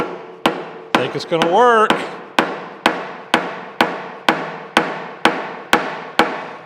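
A dead blow hammer taps a crankshaft on a steam stoker engine, a tight fit, giving about a dozen sharp, evenly spaced knocks with a brief scraping rattle between early blows, close and loud, with a short bit of speech.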